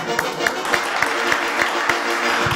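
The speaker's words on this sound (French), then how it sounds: "Elle est blonde et elle s'appelle Kelly, on l'applaudit très très fort." Audience applause at a French entertainment show as a blonde beauty-contest winner is introduced, a steady patter of claps with regular sharper accents running throughout the short stretch.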